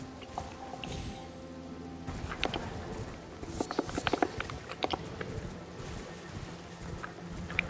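Horse hooves clip-clopping in Elden Ring, an irregular run of crisp, fairly close hoofbeats that quicken and cluster in the middle over quiet ambient game sound.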